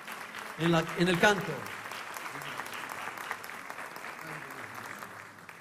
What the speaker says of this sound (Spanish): invitar a un fuerte aplauso para Adalid Kothiri